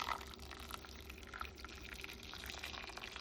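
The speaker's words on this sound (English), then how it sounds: "pour it in this." Boiled water pours from a kettle over saltfish in a pot while Jamaican-style saltfish rice is prepared, making a steady, quiet, continuous splash with no talking.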